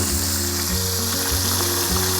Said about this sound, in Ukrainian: Бурлить, як у фритюрі.